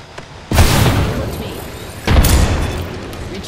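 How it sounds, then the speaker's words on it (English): Two booming grenade explosions go off in the battle royale game Apex Legends, each a sudden loud burst with a rumbling tail, about one and a half seconds apart. "Look out, grenade."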